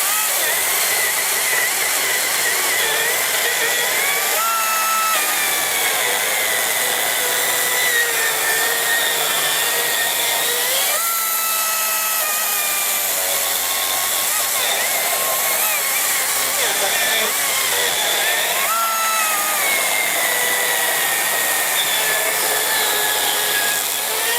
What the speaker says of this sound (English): Great little chainsaw.